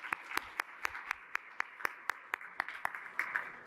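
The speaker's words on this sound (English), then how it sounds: "let's give all of our forum sponsors another round of applause" Sparse applause at a Columbus Metropolitan Club real estate forum, a few distinct claps in an uneven rhythm over a quiet room, thickening slightly toward the end.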